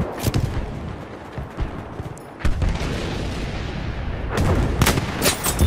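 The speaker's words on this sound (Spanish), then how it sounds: "Como me encantan esos tiros." Heavy gunfire and booming shots in the video game Battlefield V, with sharp bursts at the start, a short lull, then sustained rumbling fire and more loud cracks near the end, no talking.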